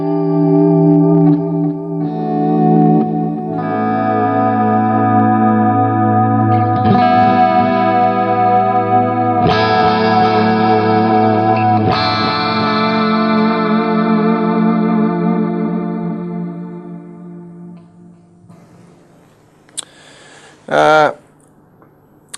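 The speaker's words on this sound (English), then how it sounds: "this is a kind of a reverb type sound using some delays and a wobbly but not overly done" Electric guitar played through a Boss GT-3 multi-effects unit with reverb, delays and a gentle chorus: loud sustained chords with shimmering wobble, ending with a few short bright plucks.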